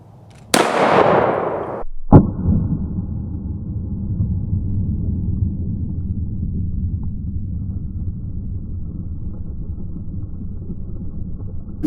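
A shotgun fires a single number 4 buckshot load of 24 pellets at 1100 feet per second, a sharp, loud blast followed by a second thump and a long rolling outdoor rumble that slowly fades.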